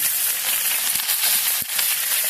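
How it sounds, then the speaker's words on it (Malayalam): Curry leaves dropped into hot oil give a loud, dense sizzle and crackle, with a few sharp pops, close and steady, no voices. "അപ്പോൾ നമ്മുടെ എണ്ണ ചൂടായിട്ടുണ്ട് അതിലേക്ക് നമ്മൾ കറിവേപ്പില ആഡ് ചെയ്യുന്നുണ്ട്"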